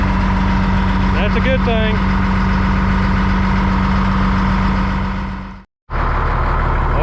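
A Caterpillar D6H bulldozer, restarted after four months of sitting, idles with a steady low diesel rumble; a voice speaks briefly over it early on, and the sound cuts out for a split second before the idle resumes.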